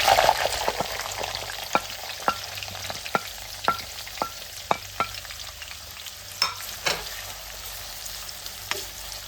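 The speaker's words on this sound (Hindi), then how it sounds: "ज़ीरा हो रहा है फ्राई। डालते हैं जनाब इसके अंदर प्याज।" Cumin and onions sizzling in oil in a karahi, a steady frying hiss close up punctuated by regular sharp scrapes and taps of a spoon stirring.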